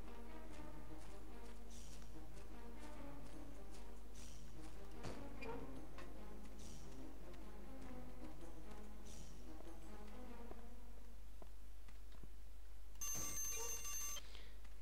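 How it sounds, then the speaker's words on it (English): A timer alarm going off as a repetitive electronic ringing pattern, fairly faint and sustained, with a brighter burst of ringing near the end. "There goes my timer."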